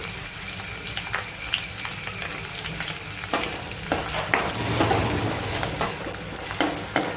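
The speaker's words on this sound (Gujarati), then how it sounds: "હવે આપણે ઝીણા સમારેલા કાંદા નાખીશું." Finely chopped onions hit a hot pan and fry with a steady sizzle, punctuated by stirring clatter and scraping, while a thin high tone lingers in the background for the first few seconds.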